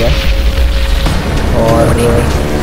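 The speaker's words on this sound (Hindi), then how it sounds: "भाई बंदा मेरे पे बम फेंक रहा, बताओ भाई बंदा है।" A loud, booming bomb explosion in Crysis 3 fills the space with a sustained, heavy rumble, with a voice speaking over it.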